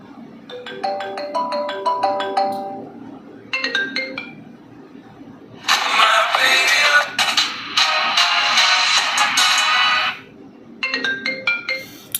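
A phone ringtone preview plays alone and loud. Tinkly melodic tone patterns come in phrases, a dense bright burst sits in the middle, and the tinkly phrases return at the end.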